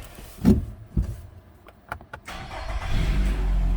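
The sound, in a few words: car engine starting up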